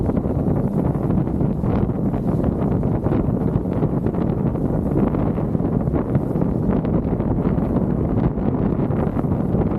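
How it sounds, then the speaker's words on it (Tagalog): Strong wind buffeting the microphone during a year-end group ride on the north loop, a loud, continuous roaring rush with gusty fluctuations and no speech. "Lakas ng hangin."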